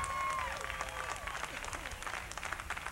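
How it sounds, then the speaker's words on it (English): A studio audience applauds in response to a question about watching David Letterman, a dense wash of clapping with some crowd murmur and a faint tonal whistle threading through, steady and fairly close. "By your applause, put your hands up."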